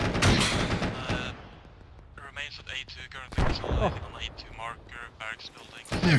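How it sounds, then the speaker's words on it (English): Gunfire in a military video game set around an airfield, sharp cracks and bursts at the start and end with scattered shots between, under radio-style voices talking. "Do hear gunfire to our north."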